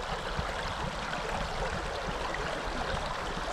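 Stream water rushes around a hiker standing in the current, giving a constant close hiss and gurgle with no talking.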